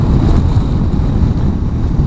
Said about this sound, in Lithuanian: Čia labai toks vėjas ir matos kaip pusta, ta skalda smulkia.